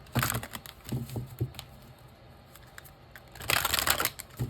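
Tarot cards being shuffled in quick crisp bursts, a flurry at the start, a pause, then another loud riffle near the end, close to the microphone.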